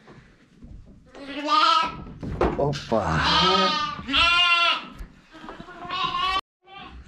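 Lambs bleating repeatedly, close by and loud, amid people talking and handling them on a farm.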